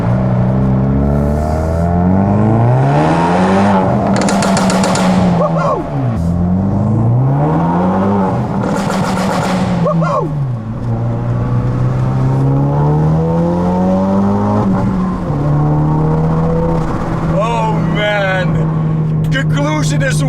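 A 2017 Ford Focus RS rated at 360 whp and 420 wtq downshifts to first and accelerates, its loud engine rising through repeated revving sweeps with gear changes between them while a voice talks over it.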